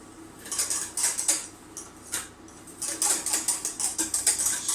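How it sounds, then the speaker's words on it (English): A thickening chocolate souffle mixture is stirred in a pan, giving close, rhythmic scraping and light clinking strokes against the pan bottom, steady and unbroken with no talking. "we must constantly keep stirring, making sure it doesn't catch on the bottom of the pan."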